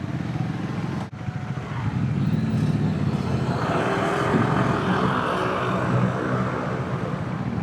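A Triumph 400X Scrambler motorcycle on the move, its engine droning steadily and loud with wind and road noise, after a brief dip near the start, with no voices.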